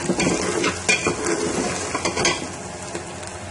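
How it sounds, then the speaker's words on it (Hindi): Minced meat (keema) sizzles steadily in a hot pan while a utensil stirs it, with scraping strokes over a loud, constant frying hiss. "तकरीबन 5 से 6 मिनट तक हम कीमे को भून लेंगे।"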